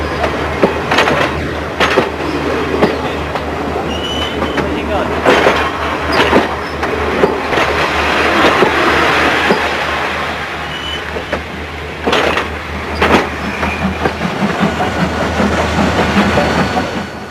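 A steam locomotive train runs on Indian railway tracks in 1975, making a continuous heavy rumble with rhythmic clickety-clack of wheels over rail joints, loud and close throughout.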